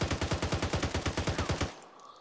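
Rapid automatic gunfire in the Arma 3 military shooter, a steady burst of roughly fifteen loud, evenly spaced shots that stops abruptly, leaving a faint ambient tail.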